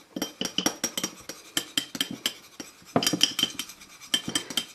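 A spoon clinks briskly against a small glass container while stirring a castor oil nail blend, giving close, rhythmic, bright taps that speed up toward the end, with no voices.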